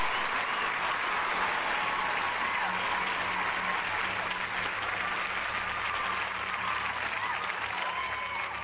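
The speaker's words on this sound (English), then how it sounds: "I'm giving y'all a round of applause." An audience claps in steady, dense applause that holds at an even level for the whole stretch, with faint crowd voices mixed in.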